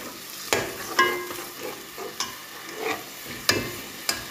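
Masala for chicken haleem frying in a pot, soft sizzling broken by several sharp scrapes and knocks of a spoon stirring, close and moderately quiet.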